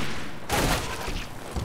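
SMG gunfire in the zombie shooter Left 4 Dead 2, a sudden loud burst of rapid shots that cuts in and then tails off over a few seconds.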